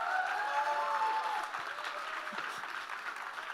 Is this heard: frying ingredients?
no